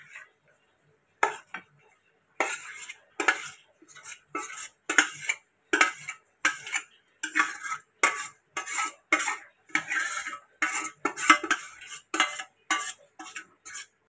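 A utensil stirs chicken and potato curry in a microwave dish, making a steady run of sharp clinks and scrapes against the dish, with brief pauses between strokes.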